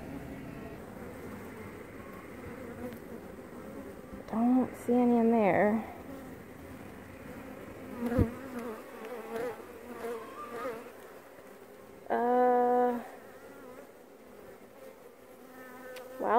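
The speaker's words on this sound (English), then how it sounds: "there are definitely a lot of bees in here" Honeybees hum steadily inside a crowded hive, with louder buzzes as single bees fly close past, while a person talks over the sound.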